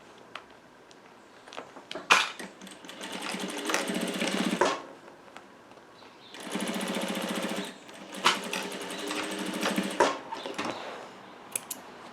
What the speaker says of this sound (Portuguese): Agora, nós vamos costurar as laterais.